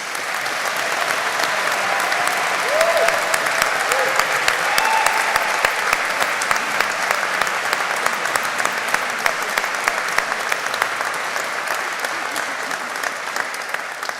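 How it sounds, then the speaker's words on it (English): A large crowd at the Boston College 2025 graduation ceremony applauds continuously, a broad even wash of many hands clapping that holds steady throughout with faint cheers mixed in. "perhaps just one more round of applause if your hands aren't too sore"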